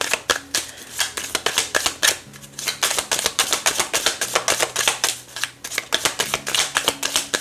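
Tarot cards being shuffled and handled during a romantic card reading, a steady run of crisp, close riffling flicks and slaps with a few short pauses and no talk.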